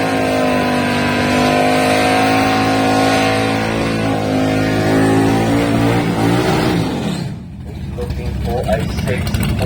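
A 72 Duster drag racing car's engine roars loudly with rising, revving harmonics, then drops into a brief lull before rumbling again, with an announcer talking over it.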